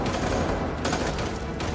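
Gunfire in a Korean action movie: a dense, loud fusillade of rapid shots that runs without pause for the whole stretch, with no voices.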